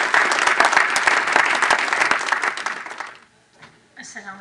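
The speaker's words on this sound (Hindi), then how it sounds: "आपकी तालियों की गूंज में" An audience at an Urdu poetry and literary program breaks into dense, loud applause that fades out after about three seconds, followed by a brief voice.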